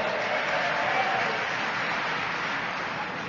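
A crowd at a recovery meeting breaks into steady applause, a dense, even wash of clapping that fills the room for a few seconds without pause.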